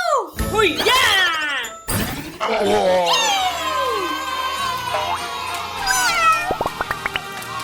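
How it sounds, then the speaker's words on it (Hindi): A cat meows loudly and repeatedly in a noisy indoor setting, with drawn-out rising and falling cries over clattering and jingling, close to the microphone. "मेरी बिल्ली को मत छेड़ो।"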